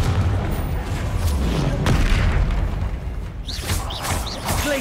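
A Confringo fire-blast spell explodes in the Hogwarts Legacy video game, with rumbling booms and crackling bursts that dominate the clip and sharp whooshing spell effects near the end.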